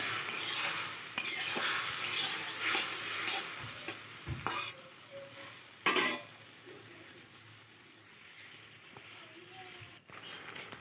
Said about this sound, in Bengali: কামরাঙ্গাগুলো ঢেলে দেবো এবার তেলের মধ্যে। ভালো করে নাড়িয়ে নিতে হবে।